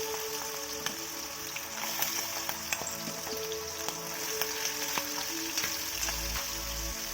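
Rice frying in hot oil crackles and sizzles steadily, close and fairly quiet, with scattered sharp pops and light stirring scrapes, no voices.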